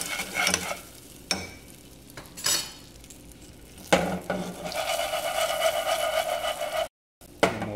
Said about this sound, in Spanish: Le damos una revolvidita.